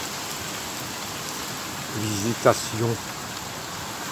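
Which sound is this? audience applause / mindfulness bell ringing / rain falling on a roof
rain falling on a roof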